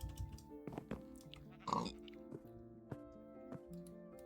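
A video-game pig grunts and oinks in short snorting bursts, with one louder squeal-like grunt midway, over a quiet hum and faint clicks.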